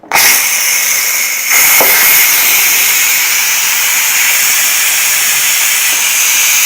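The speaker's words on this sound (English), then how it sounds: "it's going to send a cloud of steam up, and once the steam is released, then we'll be able to take this lid off" Steam venting from a Ninja Foodi pressure cooker after cooking ribs: a loud, continuous hiss that starts abruptly, dips briefly, then roars steadily throughout.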